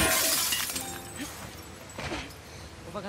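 Glass shatters in The Last of Us Part II, one loud burst of breaking glass at the start, then falling shards and scattered tinkling over quieter game ambience.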